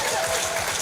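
An audience at a church gathering breaks into dense, continuous applause, many hands clapping together loudly and close by for the whole brief moment.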